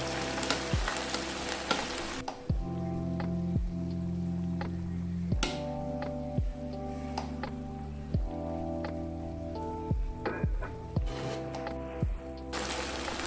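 A tortilla cooks in a hot pan after being flipped, giving a steady close sizzle with a few sharp ticks and pops scattered through it. Nobody talks.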